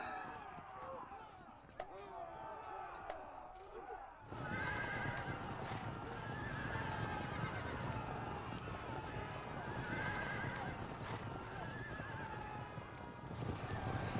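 Light horse cavalry in the medieval battle game Field of Glory Medieval, Battle of Apros 1305: horses whinny and hooves clip-clop in a dense, continuous battlefield din that swells loudly after a quieter opening few seconds.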